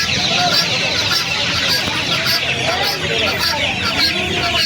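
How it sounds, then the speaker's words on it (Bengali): Australian chickens and golden hens at the Uluberia hen market in the rainy season, clucking in a dense, continuous crowd of birds close by, with people talking throughout. "এই অস্ট্রেলিয়া মুরগিগুলো দেখালাম"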